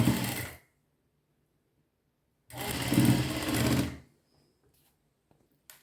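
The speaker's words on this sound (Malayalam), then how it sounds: "നമ്മളിത് ഒരു സൈഡ് ഒരു തയ്യൽ അടിച്ചു കഴിഞ്ഞു" A sewing machine stitching the slit of a sleeveless collared kurti runs in two loud, steady whirring bursts, one short and one about one and a half seconds long, separated by silence, with no talking.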